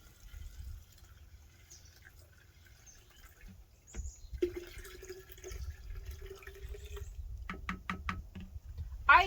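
Vinegar dissolving eggshells in a glass jar fizzes and pops faintly, with scattered small bubbling and dripping sounds growing a bit busier toward the end.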